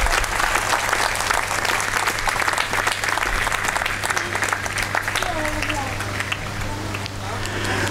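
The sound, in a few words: applause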